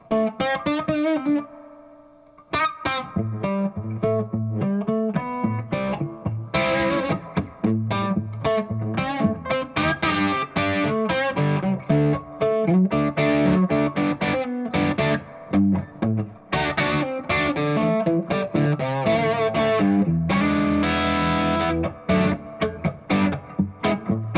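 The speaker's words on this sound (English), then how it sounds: "let me demonstrate what that sounds like with both of those off, so you can hear the reverb in the amp" Electric guitar played through an amplifier's spring reverb with a wet, splashy reverb tail, chords and single notes ringing out continuously and fairly loud, with no talking.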